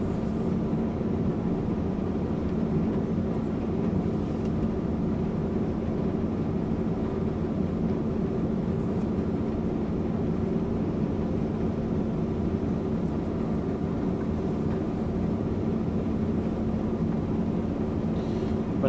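A combine harvester drives around the edge of a sunflower field with a steady, loud, droning engine rumble that holds unbroken throughout.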